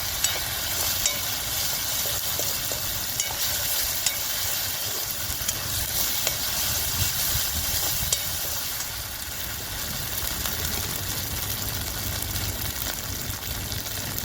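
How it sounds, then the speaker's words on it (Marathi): Ginger garlic paste sautés in a pan over a wood-fired chulha, giving a steady, close crackling sizzle that holds evenly throughout, with faint scraping of stirring and no talk. "आता अदरक लसूणची पेस्ट पण परतून घेते मी"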